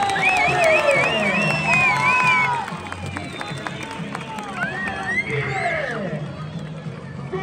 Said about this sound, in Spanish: ¡Vamos a ese aplauso más fuerte!